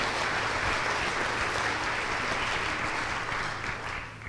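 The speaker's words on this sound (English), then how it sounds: "please clap for them" Steady applause from the audience at a State of the City address fills the room, a dense even wash of clapping that tapers slightly toward the end.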